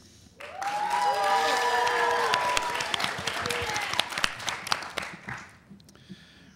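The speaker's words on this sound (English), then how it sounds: "let's give our teams another big round of applause" Studio audience applauding quiz show teams from Hillwood Middle School and Holy Family Catholic School, a burst of clapping that swells quickly, holds steady, then tapers off with a few scattered claps.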